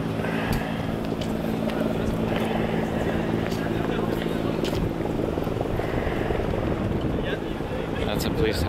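Continuous rotor and engine roar of a police helicopter overhead during a student strike protest in Québec, mixed with wind buffeting and street noise, with voices occasionally audible beneath.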